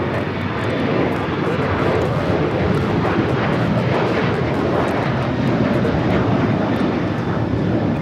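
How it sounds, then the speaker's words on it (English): Delta Airlines Boeing 737-800 jet taking off at LAX, a loud, steady broadband engine roar that holds strong for the full stretch with no talk over it. "This is Delta Airlines 615 taking off to Cancun on the 737-800."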